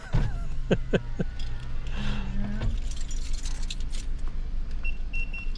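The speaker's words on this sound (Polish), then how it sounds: "Dobra, klucze się znalazły." Car keys jangle in a few quick bursts at close range inside a parked car on an underground parking level, followed by quieter rustling and cabin sounds.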